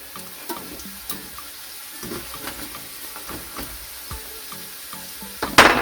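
Salt fish fritters fry in a hot pot on a stove, giving a low sizzle and bubbling with scattered pops and clinks, then a sharp louder crackle at the end.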